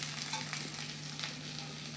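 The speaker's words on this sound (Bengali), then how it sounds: "আর দু পিস মাছ ভাজা করছি" Two pieces of rui fish fry in a pan until reddish, giving a soft, even sizzle with a low steady hum beneath it and no break throughout.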